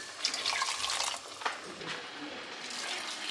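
Tap water runs and splashes steadily into a measuring cup for cooking rice, a close, continuous pour with brief gurgles and no talk.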